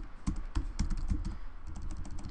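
Rapid, uneven typing on a computer keyboard during a crossword race, a steady run of close, crisp key clicks with brief pauses.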